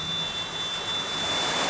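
Steady heavy rain drums on metal roofing sheets as a dense, continuous hiss that swells slightly toward the end, with a faint high steady tone running underneath.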